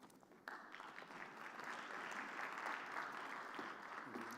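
An audience at an oil and gas conference gives a round of applause. The clapping starts suddenly and stays steady, heard fairly faintly and at a distance in a hall.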